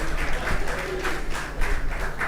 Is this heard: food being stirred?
no